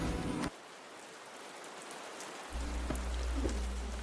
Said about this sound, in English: I stepped outside on the porch, listened to the rain